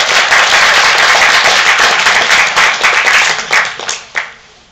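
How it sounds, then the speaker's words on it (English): An audience applauding a guest of honor at an anime convention opening ceremony, dense loud clapping that thins out and fades to a few last claps. "let's give her a big round of applause for Cristina Vee"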